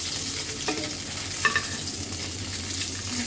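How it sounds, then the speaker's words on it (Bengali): Taro pieces frying in hot oil in a home kitchen give a steady, close sizzling hiss with soft crackles and a few faint clinks of a utensil, and no one speaks. "এখন এই তেলের ভিতরেই আমি হচ্ছে কচু ফ্রাই করে নিব"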